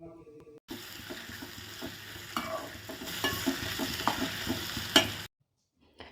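Onions, tomatoes, coriander and mint leaves sizzle steadily in a pan while a utensil scrapes and stirs in uneven strokes, close up, then the sound cuts off abruptly.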